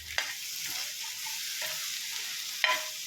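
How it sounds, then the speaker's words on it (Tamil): Onions sautéed with spices such as asafoetida and chili powder sizzle steadily in a pan for spot idli, with a few sharp spatula scrapes and stirring knocks breaking through the constant close frying hiss. "இது எல்லாத்தையும் நல்லா வதக்கி விடலாம்"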